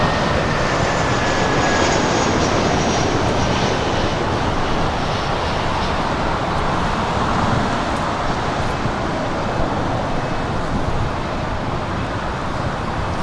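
An Air China freight jet on runway 25 left at Los Angeles International Airport, a loud continuous engine roar and rumble holding steady throughout, broad and distant-sounding with no voices.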